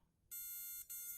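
Ultrasonic motion sensor on a micro:bit sounds its alarm: a shrill, steady electronic tone starts abruptly, breaks off for an instant, then resumes, fairly quiet overall.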